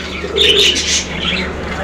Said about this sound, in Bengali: চমৎকার এক জোড়া কবুতর এটা পলিশ লাইন কবুতর